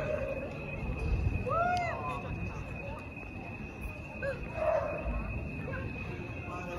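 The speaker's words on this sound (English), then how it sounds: "Lots of doggies are back today." Dogs bark outdoors near a café eating area in Cirencester, a few short, separate yaps at medium distance over a steady hum and murmuring crowd.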